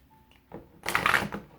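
A quick riffle of tarot cards, a single short papery burst rising out of near silence and fading within about half a second.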